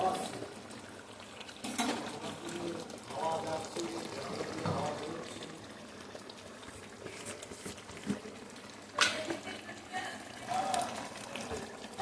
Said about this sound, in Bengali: কাঁচা সরষের তেল দিয়ে দিলাম